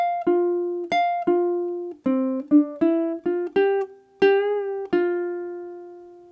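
A ukulele plays a short jazz phrase of plucked and strummed notes, one note bent upward, each attack ringing out bright and close before a final sustained chord fades.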